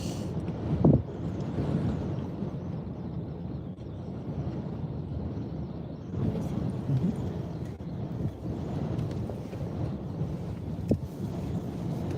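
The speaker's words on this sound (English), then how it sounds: "It's starting to get windy. It's already been windy, but it's getting windier." Wind blowing during severe weather in California, a steady broadband rush with gusty buffeting on the microphone that holds for the whole stretch, loud and close, with no talk.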